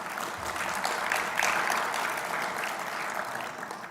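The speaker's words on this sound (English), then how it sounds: "I think the AC absolutely deserves another round of applause for the work they do." Applause from an audience at an ARIN 56 internet registry conference, a steady broadband patter of many hands clapping, moderately loud and continuous for about four seconds with no speech.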